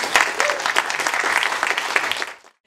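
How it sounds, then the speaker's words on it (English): A crowd at a ribbon cutting bursts into loud, steady applause that fades out abruptly after a couple of seconds. "We're going to give you a big round of applause now."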